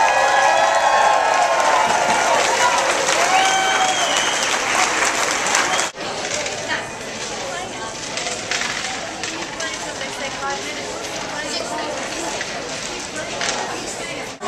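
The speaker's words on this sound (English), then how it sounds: "Can we hear a little cheering for this MathDice competition?" An audience at a MathDice math competition breaks into loud applause and cheering that fills the room, then eases into scattered clapping and excited voices talking over it.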